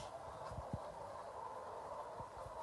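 Domestic fowl, Turkish coral-type hobby hens, feed hungrily in a coop, with a faint busy murmur of bird calls, clucks and soft pecking sounds spread across the scene.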